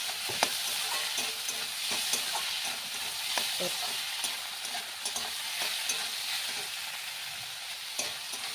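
Potatoes and leafy greens fry in a pan, giving a steady loud sizzle broken by regular clicks and scrapes of stirring, with no talking.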